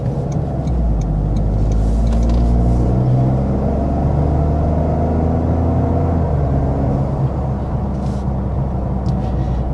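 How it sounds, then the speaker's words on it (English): A 2025 Toyota GR Corolla with an automatic transmission drives around town, its engine giving a steady droning rumble from inside the cabin with mild rises and falls in pitch as it picks up speed and shifts. "right now we are kind of driving around town"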